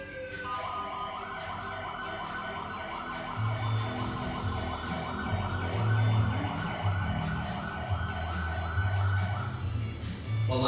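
A wailing fire engine siren sweeps up and down continuously, loud and steady, with a low engine rumble beneath it.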